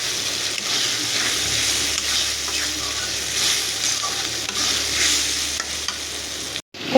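Hilsa fish cooks with tomato in a pan, a continuous steady sizzle and frying hiss with occasional stirring scrapes, close and alone without talk.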